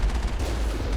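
Rapid turret gunfire from a vehicle in Mass Effect, a dense continuous burst of shots with a deep rumbling low end, loud and unbroken for about a second.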